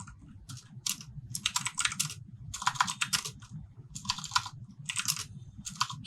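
Computer keyboard typing while a title is entered into a WordPress form, heard as quick bursts of clicky keystrokes broken by short pauses, close and fairly quiet, with no talking.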